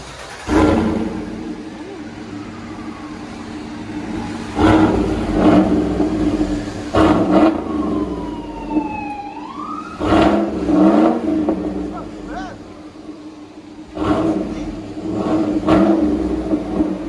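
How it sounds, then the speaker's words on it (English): A 2018 Cadillac Escalade with a 6.2L V8 and CORSA cat-back exhaust is revved repeatedly, about six deep, loud surges rising over a steady idle rumble, with a brief whistling tone in the middle. "We'll let you guys hear it in a second."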